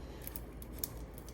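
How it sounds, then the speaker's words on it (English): A kitchen knife trims the root and stem ends off an onion for fajita vegetables, giving a few quiet, crisp slicing crunches close by with no talk. "I'm going to cut the root side and like the little stem side"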